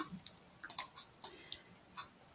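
Sparse single presses on keyboard letter keys while drawing shapes on a Canva whiteboard, light close clicks landing irregularly a few times a second.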